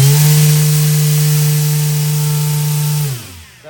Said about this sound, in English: 3-bladed 9-inch 3D printed folding propeller